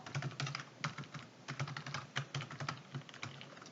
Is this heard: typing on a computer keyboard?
yes